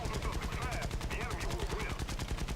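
Aircraft machine guns on a British biplane in War Thunder: a rapid, steady burst of gunfire with evenly spaced shots, loud and continuous throughout, with faint engine drone beneath.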